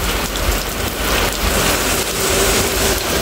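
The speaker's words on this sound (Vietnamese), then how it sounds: "Cái mưa này dịu lại." Heavy early-season rain in Phụng Hiệp, Hậu Giang, pouring steadily and loudly onto surfaces nearby, a continuous dense hiss of drops with no voices.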